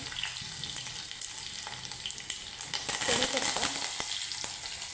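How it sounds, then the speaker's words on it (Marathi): Mustard seeds, cumin and garlic frying in hot oil for an amti tempering crackle and sizzle continuously up close, with a brief louder flare of spattering midway. "मी मोहरी घातली जिरे घातले लसूण घातले"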